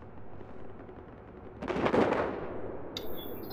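A sharp burst of gunfire and explosions in the video game Battlefield 4 breaks out partway through, a loud blast with crackling shots that fades back to a quiet low hum.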